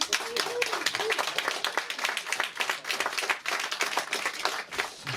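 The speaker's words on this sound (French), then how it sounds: "on peut les applaudir" Live audience clapping for a band at a public recording in a media library in Grasse, individual hand claps audible within a moderate, uneven patter that continues throughout.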